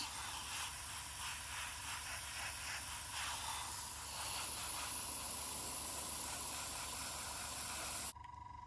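Airbrush lays paint coats onto a 1:72 F-4 Phantom scale model, a faint, steady close hiss of air that swells slightly midway and cuts off abruptly near the end.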